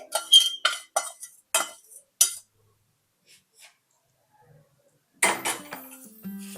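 Thin poha chivda is tossed with spice masala in a pan, giving a string of distinct clinking and scraping strokes in bursts, followed by a pause and then another quick burst of metallic mixing.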